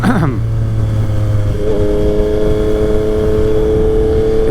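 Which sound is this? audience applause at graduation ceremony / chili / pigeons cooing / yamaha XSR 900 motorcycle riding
yamaha XSR 900 motorcycle riding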